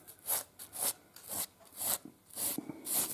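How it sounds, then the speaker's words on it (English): Wooden wing rib edge being lightly chamfered with a file or sanding tool: about six short rasping strokes in a steady back-and-forth rhythm, close and alone. "just do that to make a very small chamfer around the edge."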